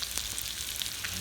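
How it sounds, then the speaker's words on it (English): Steady sizzling and crackling of food frying in a pan outdoors in winter snow, with small pops scattered through a constant hiss, close by and with no talking. "Can you hear the sizzle?"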